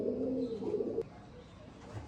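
Star kalanka Andhra pigeons coo in a low rolling burst for about a second, then a sharp click cuts in and only faint background noise remains.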